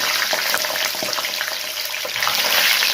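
Brinjal pieces fry in hot oil, a loud, dense, continuous sizzle and crackle with no talking.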